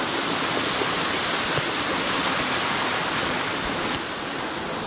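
A steady, loud rush of falling water from a waterfall on a Mt Baldy hike, close by and unbroken, filling the whole clip with dense broadband roar.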